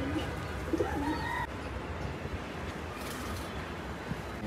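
Homing pigeons coo softly in a loft, with a few low, rolling calls over quiet background hum and no talking.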